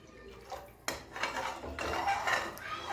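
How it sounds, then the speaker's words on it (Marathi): Water from a small copper pot splashes into a cooking pan of greens with turmeric, beginning with a metallic clank and then a rising, bubbling pour close by. "मी 1 तांब्या पाणी टाकते."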